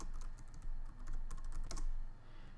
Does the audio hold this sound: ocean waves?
no